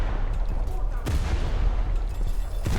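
Guns on the destroyer Charles F Adams fire during a naval video game battle. Two sharp, heavy shots stand out above a loud, continuous roar of combat. A player speaks briefly.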